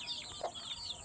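An adult chicken given Lasota vaccine drops in the eye and nose lets out a single short, quiet cluck over low background hiss.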